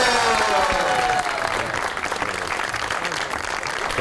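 Studio audience on a comedy talk show breaks into sustained applause, loud and dense at first, then easing slightly into an even wash of clapping; no voices on top.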